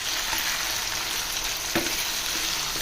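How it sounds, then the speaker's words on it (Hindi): Chicken for a chicken salan fries steadily in a pan, giving a loud, even sizzle throughout with a few sharp crackles and pops. "चिकन अच्छी तरीके से फ्राई हो जाए"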